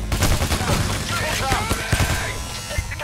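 Shotgun blasts and rapid gunfire in the co-op heist game Payday: The Heist, loud and dense with overlapping shots and thuds, under voices that talk throughout.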